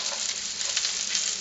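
Green peppers and onions sizzle steadily in a hot wok, a soft continuous crackle and hiss with no talking over it.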